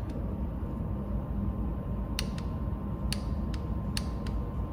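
Timing chain tensioner bolts on a Ford 3.5 EcoBoost engine are tightened with a ratchet or torque wrench, giving a few sharp, separate clicks over a steady, noisy background hum.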